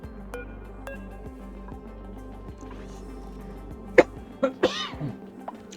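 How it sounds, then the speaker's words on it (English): A single person coughs a few times in a quick cluster near the end, close and fairly loud over a quiet background of soft video game sounds. "sorry, I had to cough."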